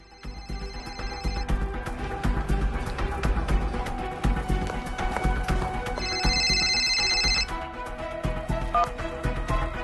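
Telephone ringing in an indoor film scene, repeated electronic bell bursts over a busy background of music and room sound, fairly prominent and continuing throughout.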